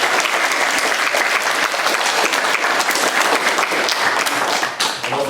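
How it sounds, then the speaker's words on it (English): A school audience at a public speaking final applauds with dense, continuous clapping, loud and even from start to finish, with a slight dip near the end. "Please give them another round of applause."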